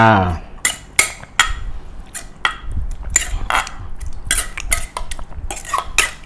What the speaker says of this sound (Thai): คนให้เข้ากันนะครับ